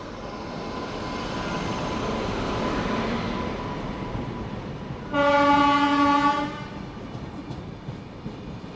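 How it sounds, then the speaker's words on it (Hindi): A train on the Delhi–Prayagraj special service rolls in slowly with a steady low rumble that swells gradually, then a loud horn blast of about a second and a half sounds before the rumble continues. "ऐसा लग रहा है कि बहुत ही स्लो रफ्तार में ट्रेन आ रही है वो"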